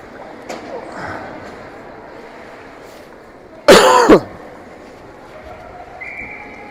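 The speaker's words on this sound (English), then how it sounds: "Sorry about that cough, folks." A sports commentator at a 19U AAA youth ice hockey game coughs once, a single loud, close burst over the faint murmur of the rink.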